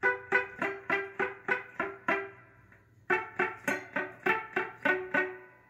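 Palm-muted electric guitar picks a short solo from a song as a steady run of clipped, punchy notes, close and clear, with a brief pause midway before the notes resume.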